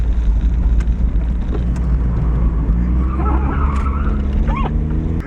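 A 1995 Mazda Miata corners hard under a loud, steady engine drone heard from inside the car, with a few rising squeals from the tires partway through.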